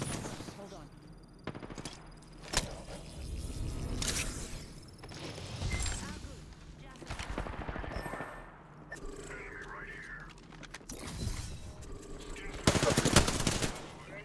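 Rapid gunfire bursts in Apex Legends crackle throughout, some close and sharp, others more distant, with a loud volley near the end, while players talk over the fighting.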